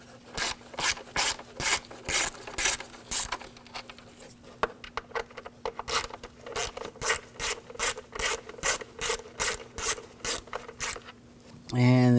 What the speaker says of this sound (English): we're going to take these screws out for the cover.